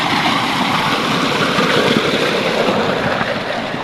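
Irrigation water rushes steadily into a vegetable field, a loud, continuous broadband gush with no pauses and no voices.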